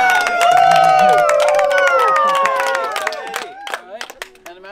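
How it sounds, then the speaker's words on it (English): Cheering and shouting voices with scattered clapping from a small group of people, loud and close, with voices dominant early and claps growing more distinct toward the end. "Okay, so we need to hear a massive round of applause"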